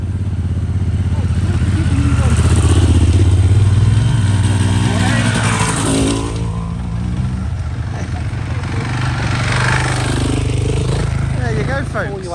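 Motorcycle engines roar loudly nearby as bikes ride past green laning, the revving rising and fading over time, with a person talking over the noise.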